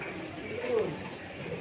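Pigeons being sold as breeding birds that lay eggs and raise chicks give a brief low coo, close and fairly quiet over a steady background hum.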